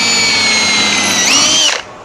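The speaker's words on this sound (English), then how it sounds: "we're just going to go ahead and drill a little hole here" A power drill bores a small hole for a set screw in an A-frame block, a loud, steady high whine that rises in pitch near the end before cutting off abruptly.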